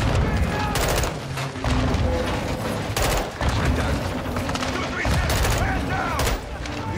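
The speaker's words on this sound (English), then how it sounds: "Incoming! Take cover! They're launching grenades!" Dense gunfire and grenade launches from Call of Duty: Modern Warfare 2, loud, continuous bursts of automatic fire and booms packed close together with brief lulls, with faint voices underneath.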